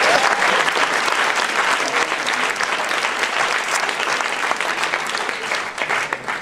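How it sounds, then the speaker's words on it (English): A studio audience applauds after a hot-sauce tasting, a dense wash of clapping that stays strong and gradually thins toward the end. "Let's give them a round of applause."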